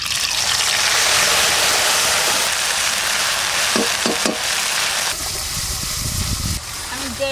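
A ground paste of cumin, ginger and dried red chilli sautés in mustard oil with black cumin seeds, giving a loud, steady hiss and sizzle with a few stirring knocks near the middle.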